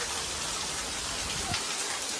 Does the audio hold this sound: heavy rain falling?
yes